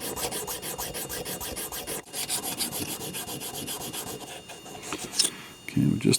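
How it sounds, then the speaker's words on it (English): A sharpening stone rubs back and forth against a steel bar from a third-generation Smith & Wesson pistol, a close, steady rasping stroke that repeats without pause, with faint knocks and handling noise near the end. "now it feels like the whole stone is coming in contact with that bar"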